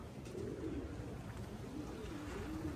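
Racing pigeons at their loft coo and murmur steadily, a close continuous low burble of several birds with no talk, during watering ahead of a 7-mile toss.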